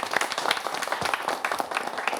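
An audience at a Partition Horrors Remembrance Day event breaks into steady applause, a dense patter of many hands clapping at moderate volume.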